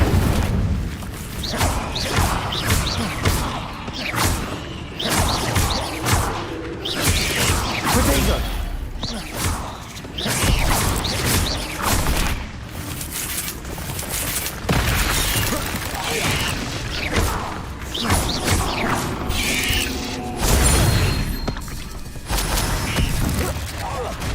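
Fire spell bursts cast repeatedly in Hogwarts Legacy, a string of loud whooshing, crackling blasts and impacts in quick succession amid dense game sound.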